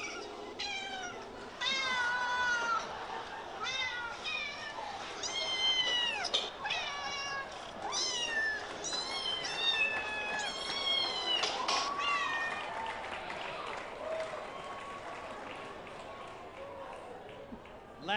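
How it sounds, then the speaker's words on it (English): Several cats meowing repeatedly in overlapping, rising and falling calls, fairly close and continuous, with a live talent-show crowd audible underneath. "Cats meowing."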